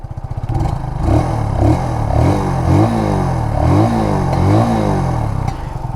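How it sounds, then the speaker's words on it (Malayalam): A Kawasaki W175 motorcycle runs close by, its exhaust note thumping steadily and rising in several revs before settling, loud and continuous with no talking. "അപ്പോൾ ഞാൻ നിങ്ങൾക്ക് എക്സോസ്റ്റ് നോട്ടൊന്ന് കേൾപ്പിച്ചു തരാം"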